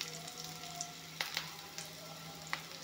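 Food fries in a pan with a soft, steady sizzle and a few sharp crackles, faint and close, with no talking.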